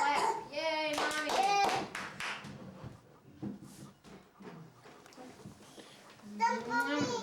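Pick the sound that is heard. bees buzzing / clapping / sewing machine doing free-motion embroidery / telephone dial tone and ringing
clapping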